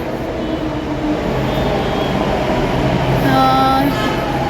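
A metro train rumbles past inside a busy station at a mall in Noida, a loud steady roar with squealing tones rising near the end and faint chatter underneath.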